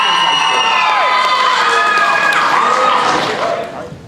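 A crowd of high school students cheering for contestants at a math game show, loud sustained shouts and whoops from many voices filling the room before slowly fading at the end.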